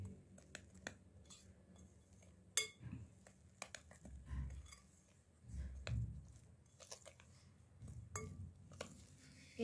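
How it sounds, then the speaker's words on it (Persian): Sweet shahpasand dough being mixed by hand in a bowl, with soft scraping and occasional light clinks of a utensil against the bowl, quiet and close, without talk. "بعد مخلوط میکنم."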